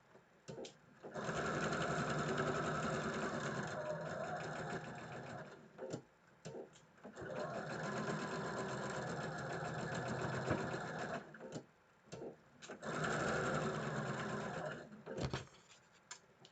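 A sewing machine stitches a quilt block in three sustained runs of steady, fast whirring, each broken by short pauses and small clicks as the fabric is adjusted, close and loud with no talking.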